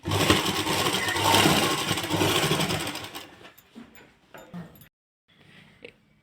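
A sewing machine stitches the fitting seam of a lined open-style suit, running steadily for about three seconds, then stopping and giving way to a few light handling clicks and near-silence.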